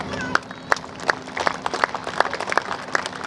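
An audience claps at a Hindi poetry recital (kavi sammelan) at a police line ground in Palamau, Jharkhand, with scattered sharp claps that swell into a fuller burst of applause, fairly close and lively.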